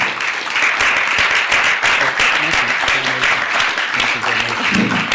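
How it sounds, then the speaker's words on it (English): Loud, dense applause fills the hall as an audience claps steadily for speaker Ted Gunderson, sustained and close throughout with a faint murmur of voices underneath. "Let's give a warm round of applause to Ted Gunderson, ladies and gentlemen."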